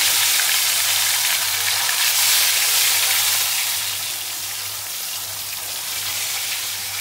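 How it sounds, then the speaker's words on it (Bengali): Rohu fish pieces fry in hot mustard oil with a dense, rain-like sizzle that stays steady and close, easing slightly in loudness partway through, with no talking. "তেলটা গরম হয়ে গেছে, এবার আমি মাছগুলো দিয়ে দেবো, তেলের মধ্যে ফ্রাই করব।"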